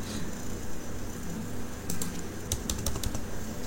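Keys clatter on a computer keyboard in a short, quick burst of typing near the end, over a steady background hum; a stop-loss price of 87 taka is being entered.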